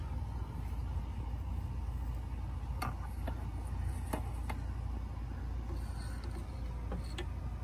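A ratchet with a swivel extension and 5/8 socket works a spark plug out of a 2002 Ford F-150 5.4L V8, sparse sharp metallic clicks over a low steady background rumble.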